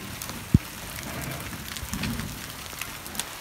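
Rain falls outdoors as a soft, crackling patter, with one sharp knock near the start and a few scattered drips later; the sound is moderate and has no talk over it.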